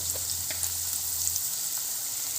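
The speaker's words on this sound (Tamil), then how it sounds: "நாம் கட் பண்ணி வச்சுருக்கிற வெங்காயத்தையும் அப்புறமா வந்து பச்சை மிளகாயும் போட்டு வதக்கிக்கலாம்" Chopped onions and green chillies sauté in a pan with a little salt, giving a steady, close, even sizzle with faint crackles throughout and no voices.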